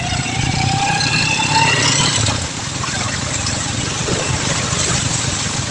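Honda Beat scooter passing along a flooded highway, engine hum mixed with steady splashing water and broadband road wash, fairly close and continuous, with a brief rising tone early on.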